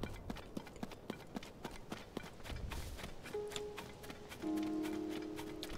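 Horses at a stable in The Legend of Zelda: Tears of the Kingdom, a run of steady clip-clop hoofbeats at moderate distance with tonal game music entering partway through.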